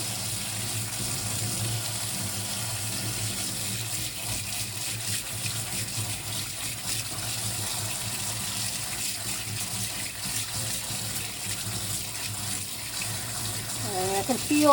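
Tap water runs steadily into a sieve of tomato seeds being rinsed at a sink, a continuous close splashing gush that holds even for the whole stretch and swells briefly at the end.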